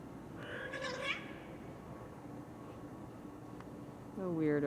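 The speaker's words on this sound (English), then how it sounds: "Oh, that's the other cat." A house cat meows twice, a drawn-out call near the start and another at the end, close by and fairly loud over a quiet room; a person speaks in between.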